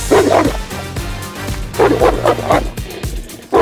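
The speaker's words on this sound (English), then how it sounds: "When you hear their bark, you will know that you're not screwing around here." An American Molossus dog barks repeatedly and loudly at close range, deep booming barks coming in quick irregular bursts.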